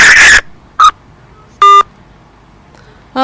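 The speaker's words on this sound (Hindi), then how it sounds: "इनका फोन डिस्कनेक्ट भ चुकल है" Electronic tones from a phone call on a live call-in TV show: short bursts of beeps separated by near silence, the last tone starting just as the clip ends, with no talk.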